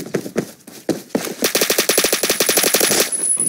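Rapid automatic gunfire from the Roblox shooter Phantom Forces, starting with a few spaced shots and then breaking into a dense, loud burst of fire lasting about two seconds, close up and without speech.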